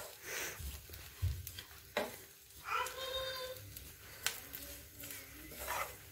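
Coconut chutney mixture with chili powder is dry-roasted in a pan, giving soft scraping stirs and faint crackling sizzle in close, uneven bursts.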